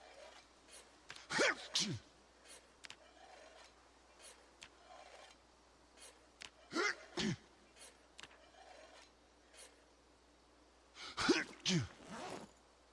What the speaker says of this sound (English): I can't control my coughing and sneezing